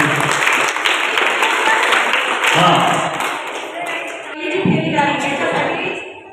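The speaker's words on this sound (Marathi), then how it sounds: "संत बैरामणी गटाला 2 गुण मिळालेले आहेत, त्यांच्यासाठी पण टाळ्या वाजवूया" A school audience claps for a quiz team at a Marathi language day event, a burst of many hands applauding that swells and eases twice, with voices mixed in.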